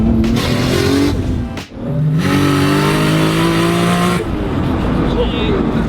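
A heavily modified Porsche 911 996 drives and revs close by, its loud engine rising and falling through rev surges with a brief dip in the middle, while voices are heard under the engine noise.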